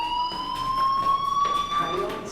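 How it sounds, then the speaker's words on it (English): A school fire alarm in the video game Life is Strange rings as a continuous, steady electronic tone with a slight rising pitch, held throughout while a voice talks over it. "Hey, do you hear that fire alarm?"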